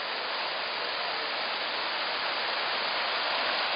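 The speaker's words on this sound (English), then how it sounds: "There's the waterfall." Waterfall fed from Lake Agnes near Mirror Lake above Lake Louise in Banff, heard as a steady, broad rushing hiss of falling water, constant and fairly loud with no voices over it.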